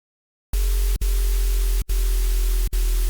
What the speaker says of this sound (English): a bright noise on the noise oscillator